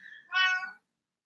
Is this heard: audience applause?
no